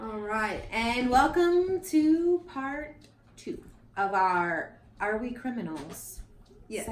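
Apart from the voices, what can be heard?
No everyday noise stands out behind the speech.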